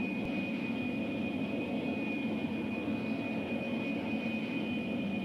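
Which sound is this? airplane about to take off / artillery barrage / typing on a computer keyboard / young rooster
airplane about to take off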